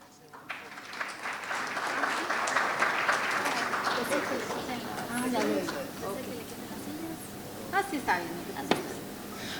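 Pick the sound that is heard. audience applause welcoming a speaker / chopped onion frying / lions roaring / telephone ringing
audience applause welcoming a speaker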